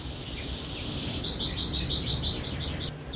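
A magpie-robin sings a bright, fairly loud run of repeated chirping phrases over steady background hiss and insect buzz.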